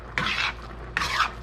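Two short scraping strokes stir pasta carbonara sauce in a pan, close and brisk, separated by a moment of near quiet.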